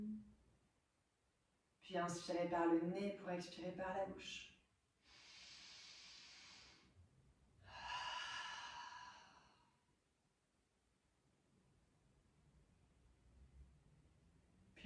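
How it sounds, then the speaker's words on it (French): Breathing during a pre-meal yoga routine: after a short voiced passage, a steady hissing inhale through the nose gives way to a breathy, sighing exhale through the mouth, close and clear, then quiet. "Puis inspirez par le nez pour expirer par la bouche."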